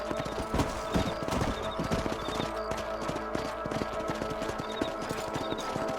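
Horse hooves clip-clopping steadily while riding across a ranch property in Red Dead Redemption, a continuous close, even trotting rhythm set over a constant outdoor background bed.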